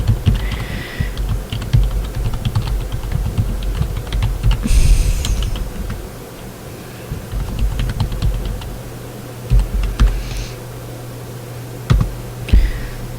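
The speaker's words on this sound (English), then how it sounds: "I have to type this text" Someone types on a computer keyboard while filling out an online form, producing close, uneven bursts of clicking keys over a steady background hum, with short pauses and a few louder taps near the end.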